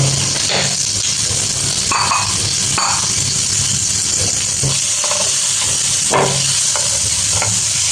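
An egg masala roll toasts in melted butter in a hot pan, with a loud continuous sizzle and hiss and scattered clinks and scrapes of a utensil over it, with no voices.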